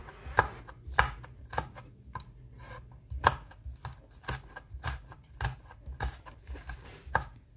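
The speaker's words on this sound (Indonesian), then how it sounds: "Ini cabe hijaunya saya iris-iris." Green chilies are sliced with a knife on a cutting board in a run of crisp, fairly even chops, each a sharp tap, close and clear with nothing else heard.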